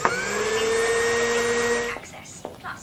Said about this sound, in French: Yaya, tu peux égoutter les poivrons et les mettre dans le mixeur avec une gousse d'ail, s'il te plaît?